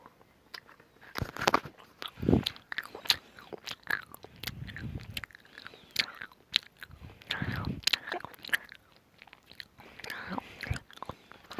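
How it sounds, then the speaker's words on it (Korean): Biting into chocolate with a firm, slightly hard shell and a soft filled center, close-up crisp bites followed by wet chewing and crunching, repeated several times with brief pauses between mouthfuls. "이 안에 들어있는 초콜릿은 부드럽고, 이 밖에 있는 초콜릿은 약간 단단하니까"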